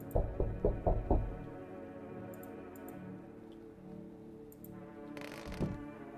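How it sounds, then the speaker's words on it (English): In the video game No, I'm not a Human, a quick run of five or six dull knocks on the ceiling thuds out at the start, then a low droning ambience follows. "It sounds like they are knocking on the ceiling, not on the door."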